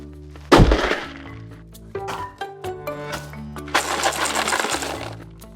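A gift box is shaken, with loose contents rattling and clattering inside: one sharp knock, then scattered clinks and knocks, and finally a longer burst of rattling near the end.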